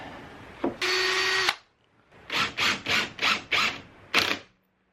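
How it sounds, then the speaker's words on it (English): A power drill whirs in one sustained burst, then bores into wood in five short pulses and a final burst, pre-drilling, close and loud with no talking. "I'm going to also pre-drill into this one from the back side"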